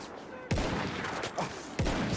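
Gunfire in the World War I shooter Battlefield 1: three sharp, loud rifle shots spaced about a second apart, each with a short echoing tail over steady battlefield ambience.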